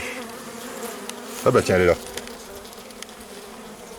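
Honeybees buzz steadily around a hive frame close by, a low droning hum that runs throughout, with a brief burst of speech in the middle.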